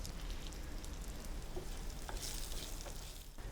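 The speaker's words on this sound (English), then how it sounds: "now let's saute these veggies and the spices and the gram dals" Chopped carrot and beetroot with spices and gram dal sautéing in a pan for a chutney, a continuous loud sizzle with faint scraping stir sounds mixed in.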